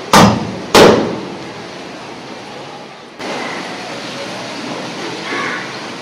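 A mortar pestle used as a hammer strikes a hard coconut twice in quick succession, each blow loud and close. A steady hiss of background noise follows.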